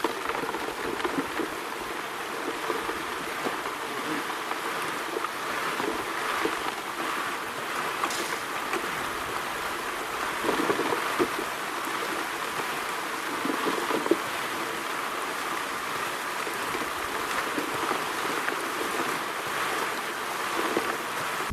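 Gold mining dry washer and wash plant running material, a continuous rushing, watery broadband roar with faint mechanical rattle underneath, steady and fairly close throughout.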